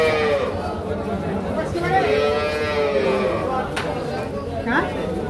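Friesian dairy cows at a cattle market in Kaharol, with a cow lowing in a drawn-out harmonic call amid steady market chatter and nearby voices.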